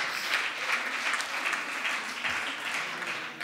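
An audience at a German business talk gives sustained, dense applause that stays steady and full for the whole stretch, with no voices over it.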